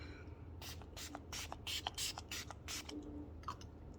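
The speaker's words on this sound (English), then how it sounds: "I'm gonna use my Wet n Wild Natural Finish Photo Focus Spray just to lock everything" Wet n Wild Natural Finish Photo Focus setting spray is misted onto a face in a quick series of about ten short, hissing pumps, close and fairly soft, with no speech.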